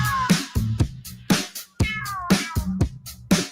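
A kitten meows repeatedly and loudly up close, with about eight short, insistent cries spaced unevenly, and no other sound between them.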